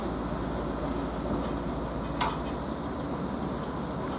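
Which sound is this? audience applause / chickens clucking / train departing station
train departing station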